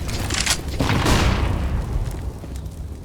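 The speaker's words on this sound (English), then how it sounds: "Flashbang." A flashbang grenade detonating in the Counter-Strike video game, a loud booming burst with a rumbling, sweeping tail that fills the short clip, no voices over it.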